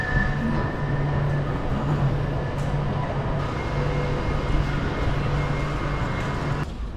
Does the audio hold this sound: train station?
yes